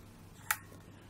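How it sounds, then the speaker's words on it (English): The back of an Olympus OM series SLR film camera is unlatched by lifting the rewind knob, heard as a single soft, crisp click in a quiet room. "To open the back, standard procedure for an SLR. Lift up the rewind knob, and there we are"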